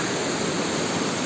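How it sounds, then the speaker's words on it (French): Rushing water of the Hérisson, a small river running as a mountain torrent with waterfalls, makes a steady, dense roar close by with no breaks and no voices. "c'est un torrent de montagne"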